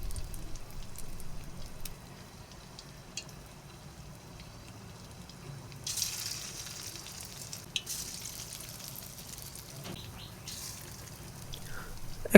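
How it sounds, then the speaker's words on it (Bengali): Flattened potato egg pakora frying in hot oil, a low continuous bubbling sizzle with scattered ticks and drips, moderately quiet and close, swelling slightly midway; no talking. "হাতে অল্প একটু নিয়ে এইভাবে চ্যাপ্টা করে শেপ দিয়ে তেলে ছেড়ে দেব"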